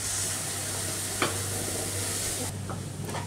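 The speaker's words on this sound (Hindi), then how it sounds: "अब हम इसमें अपना एवोपरेटेड दूध डालेंगे" Evaporated milk hits roasted gram flour in a hot pan, making a steady hissing sizzle with a single sharp scrape of a spoon, then a duller, lower simmer near the end.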